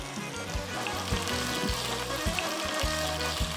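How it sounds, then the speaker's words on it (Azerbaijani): Chicken breast sizzles steadily in a pan over medium heat, a continuous close frying crackle with light pops and a low rhythmic bump or two, no voices. "Toyuq döş əti burada yavaş-yavaş qovrulsun."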